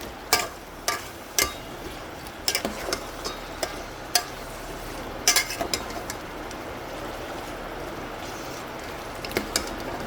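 A spoon stirring biryani masala as it fries in a pan, irregular sharp clinks and scrapes against the metal over a continuous soft sizzle, close and fairly loud.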